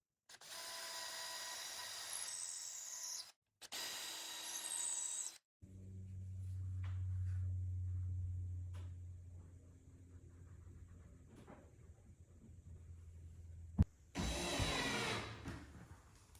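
A power drill bores a 1/4 inch hole about 1.5 inches deep into the end of a wooden Murphy bed part. Two loud, short whirring bursts give way to a steadier, lower motor hum, then a final burst near the end.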